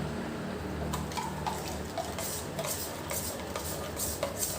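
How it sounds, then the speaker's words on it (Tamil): A spoon stirs jaggery into water in a container, making soft repeated scraping and swishing strokes at a steady pace. The sound is faint and there is no talking. "நல்ல சக்கரை கரைகிற அளவுக்கு கலந்து விட்டுறலாங்க"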